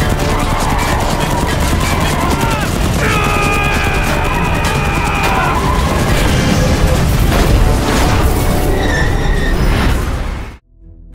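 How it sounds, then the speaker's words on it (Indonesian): Dense, loud barrage of blasts and crashes rolling on continuously for about ten seconds, like heavy sustained gunfire, then cutting off abruptly. "Tembakan bertubi-tubi pun dilepaskan"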